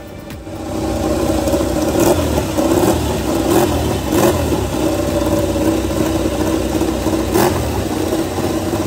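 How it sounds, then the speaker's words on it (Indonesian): Ducati Lenovo MotoGP motorcycle engine warming up in front of the paddock, a steady loud mechanical roar with small rev swells and brief sharp bursts throughout, close by and without talk. "motor milik Ducati Lenovo yang sedang dipanasi di depan paddock"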